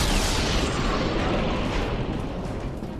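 The Batmobile's main cannon fires in the Batman: Arkham Knight video game, a heavy booming blast with a dense rumbling wash that fills the whole moment, loud and sustained without any speech.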